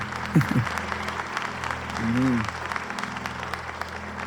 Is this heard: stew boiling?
no